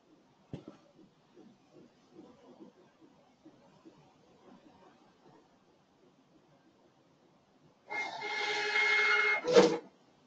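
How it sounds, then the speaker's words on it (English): A receipt printer buzzes out a ticket in a steady whirring burst lasting about two seconds, ending with a short tearing click, after quiet murmuring voices and clicks in the background. "That was the receipt printer."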